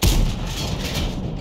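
A single tank gun shot in World of Tanks, a loud, close, deep boom with a sharp onset that rolls off into a brief rumbling tail.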